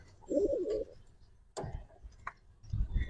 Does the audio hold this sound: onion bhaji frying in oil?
no